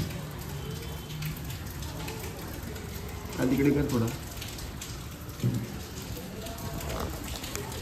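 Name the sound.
rain falling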